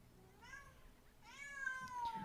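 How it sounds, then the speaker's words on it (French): A cat meows twice, first a soft mew and then a longer, louder drawn-out call, faint and somewhat distant against quiet background. "Oh, ce chat"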